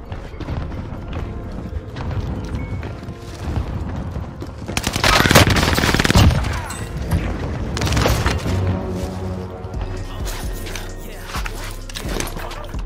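STG 44 fire in the video game Warzone: rapid bursts of automatic gunfire, loud and close, with a dense sustained volley in the middle and scattered shots around it, alongside other game sounds and brief talk.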